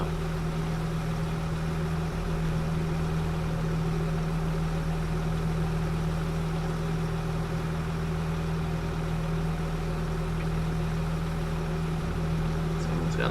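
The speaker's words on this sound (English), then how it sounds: "Got a loud idle, but it is a good tractor" A tractor in a corn-harvesting farming video game idles loudly, a steady low droning hum with a constant tone that holds for the whole stretch, close and even.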